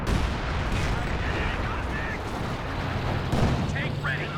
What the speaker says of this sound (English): did rebuild the Flak Panzer, currently shooting at the ground units